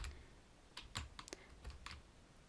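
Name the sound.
typing code on a computer keyboard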